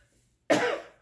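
A single burst of harsh coughing starts midway, loud and close, then trails off into quiet.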